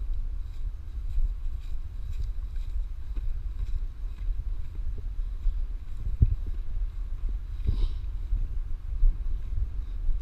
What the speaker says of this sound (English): The weather is really windy